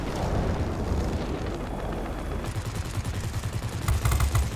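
Aircraft machine guns rattle in World of WarPlanes, a dense, continuous roar of rapid gunfire with engine rumble beneath, growing louder and choppier near the end.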